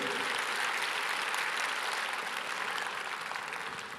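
Dense, continuous applause from a church congregation fills the space at an even level, tapering slightly toward the end.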